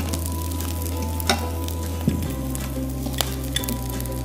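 Coarsely chopped garlic and a bay leaf fry in a pan, a continuous loud sizzle with occasional sharp clicks of a utensil against the pan.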